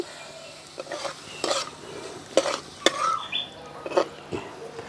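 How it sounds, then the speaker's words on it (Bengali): Paneer and pizza sauce stirred in a frying pan with a spoon, soft sizzling under a series of scraping, clinking strokes against the pan, close and fairly quiet. "হালকা করে একটু নাড়াচাড়া করে নিয়েছি"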